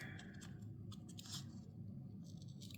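Scissors snip through washi tape with a few crisp, quick cuts set close together, laid over a steady low background hum; there is no talk.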